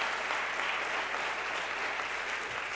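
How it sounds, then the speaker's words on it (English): A sustained wash of audience applause at a vegan advocacy talk, steady and fairly even, with no voices over it. "So give them another round of applause."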